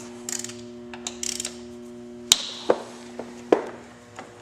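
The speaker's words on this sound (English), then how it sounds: "we're going to loosen the bolts up for the calipers, which is the 2 bolts back here. They're 8mm Allens" An 8mm Allen key loosening the brake caliper bolts on a motorcycle front end, giving a few sharp metallic clicks and cracks as the bolts break free, close and distinct over a steady low hum.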